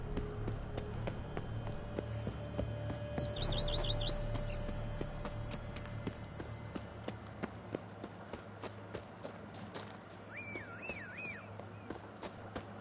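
Roach the horse gallops in The Witcher 3, rapid clip-clop hooves running fairly quietly under game ambience, with brief bird chirps and tweets piping up now and then.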